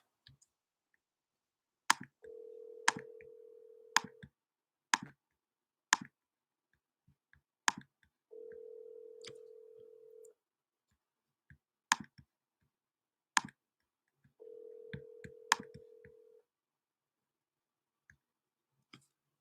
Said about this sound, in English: Let me give him a call again.